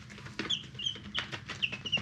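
Baby chicks in a brooder, hatched from a homestead's own chicken flock, peep in short, high, close chirps that come in quick irregular bursts, with soft rustling underneath.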